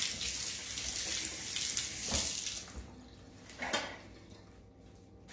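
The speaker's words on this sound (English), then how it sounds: "Rinse my hands." Running tap water pours into a sink as hands are rinsed, a steady broadband splashing rush that thins out near the end with a couple of brief splashes.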